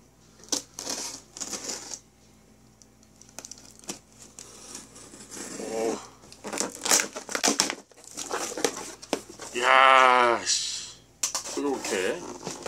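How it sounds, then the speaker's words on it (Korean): Packaging of an Intex air mattress being cut and torn open with a knife, close crinkling and crushing of plastic and cardboard in bursts, alongside someone talking in Korean. "상품 받은 거 한번 언박싱 해보도록 하겠습니다."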